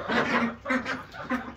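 Ducks in a barn brooder quack in three loud, close bursts, each a cluster of nasal calls with short gaps between, set against steady background noise.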